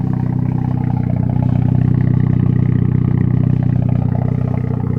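A loud rotary engine in a 1993 Mazda RX-7 FD3S runs close by, a steady throbbing rumble that holds its pitch without revving.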